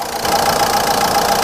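A used Ford Ikon's engine idles with a smooth, steady mid-pitched hum and a faint rhythmic tick, close and consistent with no other sounds.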